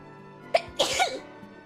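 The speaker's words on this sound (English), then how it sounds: "I'm sorry, I had to sneeze." A single close human sneeze, a quick sharp inhale followed by a bright burst and a short voiced tail, heard alone against a quiet background.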